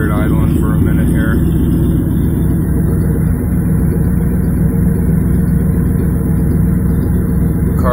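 A 1996 Chevrolet Camaro SS with the optional factory SLP exhaust idles steadily and loudly up close, giving a constant deep rumble throughout.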